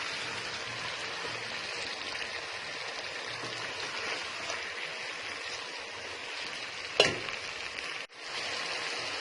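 Sliced potatoes (aloo) frying in a pan for a Pakistani sabzi give a steady, close crackling sizzle throughout, with a brief scrape or clatter near the end.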